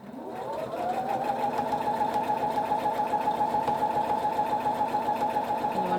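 A sewing machine runs at a steady fast pace while stitching fabric for a kitchen towel, its motor spinning up quickly and then holding a loud, even mechanical whir with rhythmic needle ticking.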